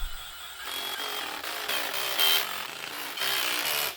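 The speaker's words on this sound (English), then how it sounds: "I'll very gently just drive these screws in." A power driver whirs in short, loud bursts, its motor pitch rising and falling as it runs close by with brief pauses between pulls.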